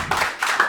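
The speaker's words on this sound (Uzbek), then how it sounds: "Meni taniydiganlar bitta qarsak chalsin" A short burst of audience clapping at a stand-up comedy show, a brief scattered patter of hands lasting well under a second, with a second small flurry toward the end.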